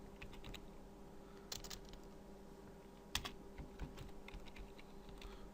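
Computer keyboard keys being typed in short bursts of quiet clicks, with a few sharper keystrokes standing out against a low steady background hum.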